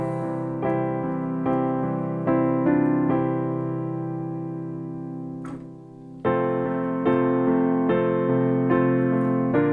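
Piano playing the post-chorus chord progression of a song, steady sustained chords struck in a slow, even rhythm, close and clear with a brief pause before the final chords ring out.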